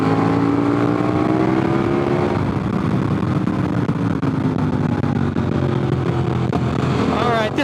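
Motorcycle on Heidenau K60 Scout tires accelerating hard through high-speed twisties on Highway 18, a loud, continuous engine roar climbing in pitch through the gears with steady wind noise.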